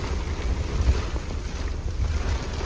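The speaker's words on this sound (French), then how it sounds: "c'est dingue les rafales là-bas" Strong gusts of wind during a thunderstorm roar steadily against the microphone as a dense, rumbling rush with slight surges and no speech.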